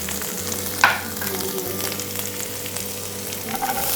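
Garlic sizzles steadily in hot sunflower oil in a pan, a dense, continuous frying hiss with a brief stir or clatter near the start and no talking.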